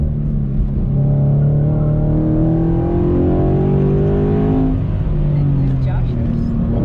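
A Toyota 86 sports car runs hard up a mountain road, its engine droning steadily and loudly throughout, the pitch rising and falling with revs as people talk over it inside the cabin.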